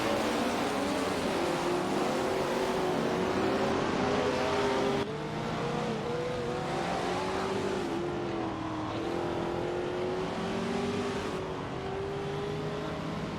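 Race cars roar around Road Atlanta in a video game, engines droning steadily with rising and falling pitch as they accelerate and shift, a continuous loud blend of several nearby motors.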